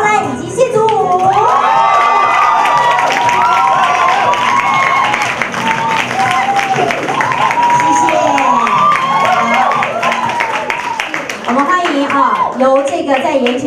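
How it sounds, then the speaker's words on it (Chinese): A crowd greets performers at a live stage event with loud, continuous clapping, cheering and high-pitched screaming. The din stays dense and close throughout, with whoops rising above it. "现在希望大家用掌声跟尖叫声欢迎演艺圈的重量级的组合啊"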